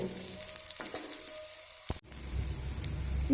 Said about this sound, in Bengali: পাঁচফোড়নটা খুব সুন্দর করে ভাজা হতে দেব